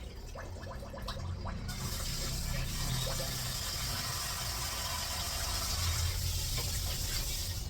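Raw chicken is rinsed in water for Kerala biryani, with continuous gushing, splashing tap-like water close by and no voices.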